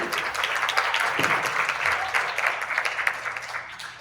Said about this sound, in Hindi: आज की हमारी प्रदीप जी के लिए तालियां